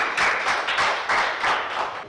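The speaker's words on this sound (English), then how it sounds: "Let's give him a round of applause." Round of applause from a studio audience at a maths quiz show, steady dense clapping in pulsing swells for about two seconds, fairly close, with no talk over it.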